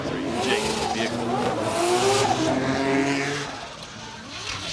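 Drift race cars entering a corner at Ebisu Circuit West Course in Fukushima, loud engines revving with wavering pitch and screeching tires, close and continuous, with a commentator talking over them.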